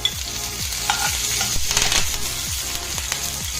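Slit green chilies frying with ginger in oil in a pan for Kerala brinjal roast, a steady close sizzle under rhythmic, repeated scraping of a spoon stirring through the pan.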